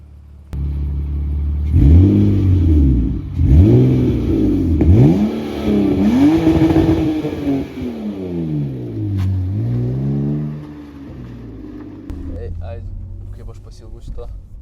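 A car engine revs up and down repeatedly at close range after a brake change in a garage, the pitch rising and falling in loud sweeping surges before settling to a steady idle.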